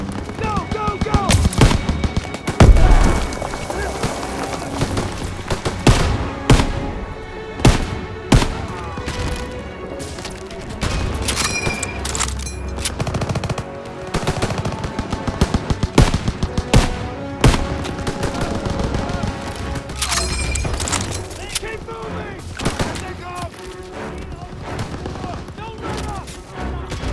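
Machine gun fire rattles in Call of Duty WWII as an MG fires from a barn, long close bursts mixed with heavy impacts and shouted voices throughout a loud battle.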